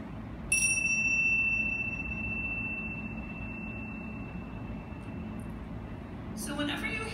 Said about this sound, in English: whenever you hear the bells ring 3 times, it will generally indicate a starting of our practice